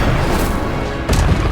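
An Incendio fire spell cast in Hogwarts Legacy, a loud booming burst of flame with a rumbling low end and a second whooshing blast about a second later.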